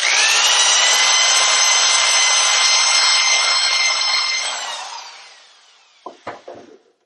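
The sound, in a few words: dingle ball hone cleaning rust from swingarm bore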